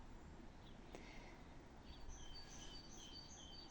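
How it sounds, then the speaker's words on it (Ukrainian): Faint birdsong in April, a few short high chirps and trills in the distance over a steady low outdoor hum. "Чуєте, як гарно співа птах?"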